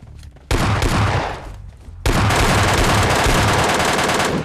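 MK14 rifle fire in a battle royale video game: dense, loud automatic-sounding bursts, one short volley then a longer continuous barrage after a brief pause.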